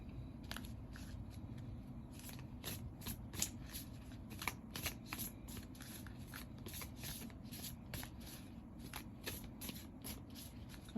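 Tarot cards shuffled by hand during a card reading, a steady run of soft riffling flicks and papery snaps lasting throughout, close and fairly quiet, with no talking.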